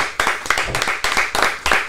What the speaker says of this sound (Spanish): aplauso para Javier